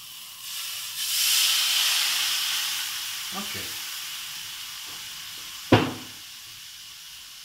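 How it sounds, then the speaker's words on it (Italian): Water poured into a still-hot pan while cooking scialatielli with asparagus and prawns, bursting into a loud hiss of steam that slowly fades, with a clatter and a sharp knock later and a brief spoken word. "la padella è ancora bollente, mettiamo dell'acqua."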